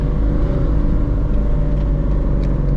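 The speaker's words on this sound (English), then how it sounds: "We'll rev match down to second here coming to this light." A Ford S550 Mustang with an aftermarket exhaust rev-matches down to second gear approaching a light: loud, steady low engine and exhaust drone with road rumble heard from the cabin, and no talk.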